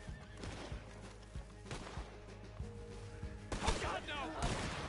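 A horse whinnies and snorts in the Red Dead Online video game, with hoof clip-clops and distant gunfire in the mix, while a player talks over the faint game sounds.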